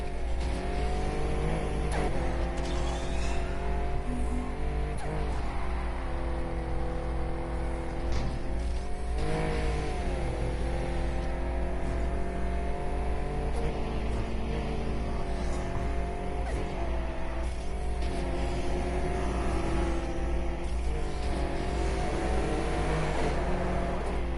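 A car engine in the Need For Speed Heat racing game revs and holds high, the pitch rising and falling with gear changes in a constant loud drone, with no talking over it.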